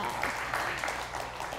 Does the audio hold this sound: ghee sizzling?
no